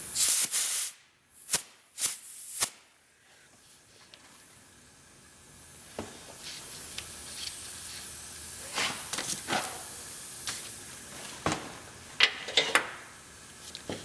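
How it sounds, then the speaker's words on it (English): Air hisses from a pressurized air hose fitted with AN fittings, with a few sharp bursts at the start, a steady low hiss through the middle and more short blasts near the end, close and fairly quiet. "we've filled up our air hose, filled up our hose"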